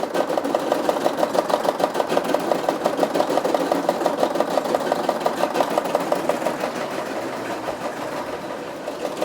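A Brother SE 625 embroidery sewing machine stitches patches, a steady rapid mechanical chatter of needle strokes running continuously and close for the whole stretch, with no talking.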